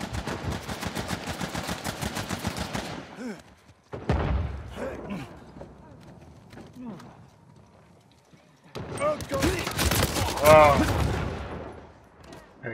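Gunfire in the video game Uncharted 4 during a multiplayer match: rapid automatic bursts open the clip, scattered shots follow, and a second loud volley comes near the end, all amid busy game sounds.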